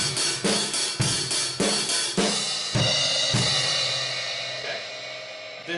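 Drum kit playing a crash pattern: accented crash hits paired with snare and bass drum, then a long ringing cymbal decay, played close and alone without speech.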